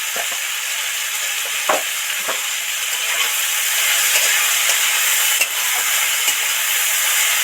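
A little sugar fries in hot oil with a loud, steady sizzling hiss and a few brief stirring clicks throughout.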